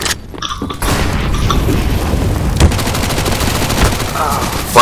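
In Counter-Strike on Dust2, a flashbang is thrown amid a loud, dense clatter of gunfire and booms, with sharp shot transients throughout and a heavy hit at the very end.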